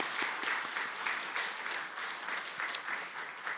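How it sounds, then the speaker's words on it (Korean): A church congregation claps in warm, steady applause during a Sunday worship service, welcoming a family of newly registered members; the sound is fairly soft and somewhat distant, filling the hall evenly without any talking. "우리 박수로 환영하시도록 하겠습니다"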